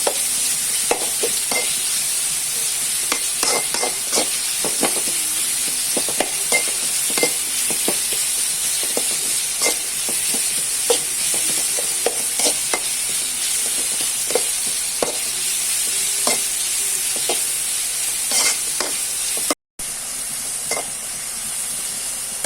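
Onions fry in a pan for a Bangude Pulimunchi fish curry, a continuous close sizzle broken by repeated scraping strokes of a spoon stirring them.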